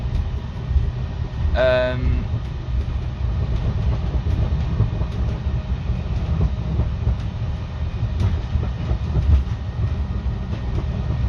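An automated Heathrow pod transit car glides along with a steady low rumble and rattle throughout, close and continuous, with a brief high tonal chime early on.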